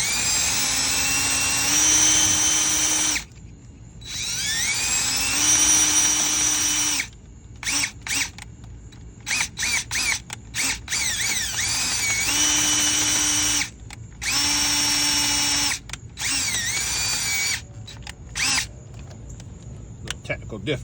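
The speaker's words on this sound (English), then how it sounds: "I'm going to drill inside this and make it bigger to make it fit." Power drill with a drill bit enlarging the hole of a car battery terminal, loud whining bursts that start and stop repeatedly, speeding up and slowing down, with short pauses between runs.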